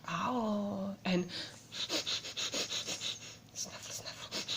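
A voice imitates a hedgehog snuffling in a night garden: a quick series of soft, rhythmic sniffing puffs following a brief spoken bit, close and fairly quiet.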